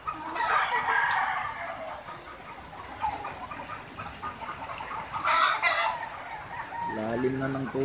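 Gamecocks and hens stranded in floodwater cluck and squawk in busy, overlapping bursts, with a short crow rising near the end over a steady wet background.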